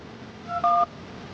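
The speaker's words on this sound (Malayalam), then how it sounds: "കുറച്ചു നേരം കാത്തിരുന്ന ശേഷം അഭിനവ് ഫോൺ എടുത്ത് ആരെയോ വിളിച്ചു" A telephone is dialed with a couple of short, clear keypad beeps in quick succession over a quiet room hush.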